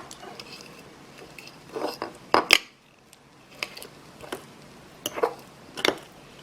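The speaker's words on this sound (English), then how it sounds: "take a fork and you can mix it up that way" A fork stirs blueberries in a bowl for a keto cheesecake chaffle topping, giving soft scraping and several light, irregular clinks against the bowl, close by and with no talk.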